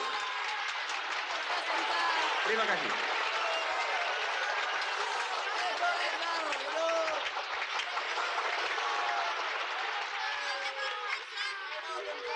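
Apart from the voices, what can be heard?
audience applause for award winners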